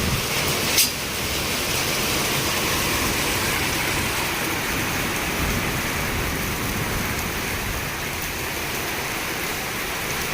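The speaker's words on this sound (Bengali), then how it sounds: "কি বাবা রে, কি জোরে বৃষ্টি" Heavy rain pours down in a dense, constant roar heard from a rooftop, with one sharp knock near the start and no talking.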